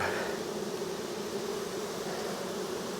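Honey bees swarm around the screens of a hive during a nectar dearth, their dense, steady buzzing close and continuous with no talk.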